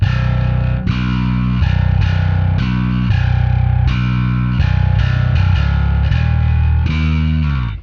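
A distorted bass plays sustained chords through a Fractal Audio FM9 amp modeler with EQ, thick and saturated with a slightly trimmed top end, ringing out at the close.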